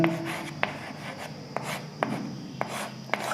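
Marker or chalk writing on a board during a physics lesson, with a series of short sharp taps and strokes at a steady pace over a soft continuous scratching, close and moderately quiet with no talking.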